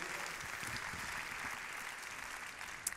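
An audience claps steadily at a startup awards ceremony, a dense, even patter of many hands that holds at a moderate level throughout, with no voices over it.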